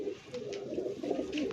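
Pigeons on a rooftop loft coo in low, rolling throaty calls, several overlapping phrases close by with no talk.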